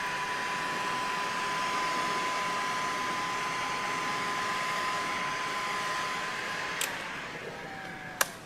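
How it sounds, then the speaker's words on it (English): A heat gun blows steadily on vinyl retro side panel graphics on a Ford Bronco, a constant close airy whine with a faint tone, ending with two small clicks. "I'm going to grab that heat gun"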